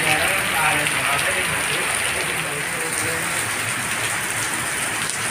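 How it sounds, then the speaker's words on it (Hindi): Steady heavy rain pouring down inside a zoo in Dehradun, pattering on surfaces nearby, a dense continuous hiss throughout. "बारिश चालू हो गई है यहाँ पे जू के अंदर"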